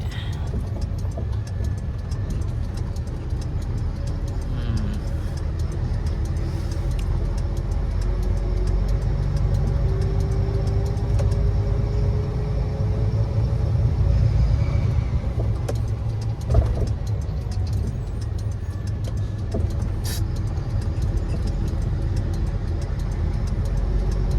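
Steady low engine rumble of a large vehicle travelling along a rough, potholed road, a continuous drone heard from nearby with gentle swells in pitch and level.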